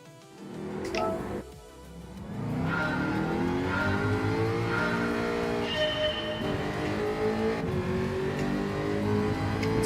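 A Jaguar F-Type engine in Gran Turismo 7, revving up and then holding a steady, loud drone as the car accelerates and races, with rising pitch sweeps through the gears.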